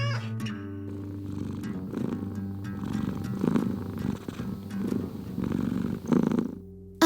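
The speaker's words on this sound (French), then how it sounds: "le chat refuse et continue de griffer et de ronronner." A cat purrs close by in a steady rhythmic rumble with the pulses of its breathing, alone, after a brief sharp sound at the start.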